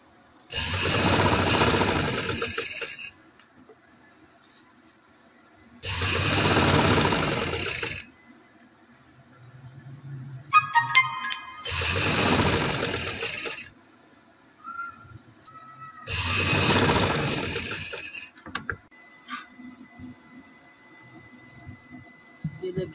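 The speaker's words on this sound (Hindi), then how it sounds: "अब मैं ये सिलाई लगा कर आपको दिखाती हूँ।" A sewing machine stitches a sleeve in four bursts of rapid mechanical whirring, each a few seconds long, separated by pauses filled with brief clicks and handling noises.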